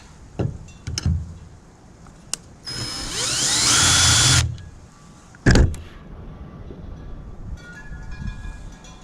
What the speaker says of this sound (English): Now I'm just going in with that 3/16 drill bit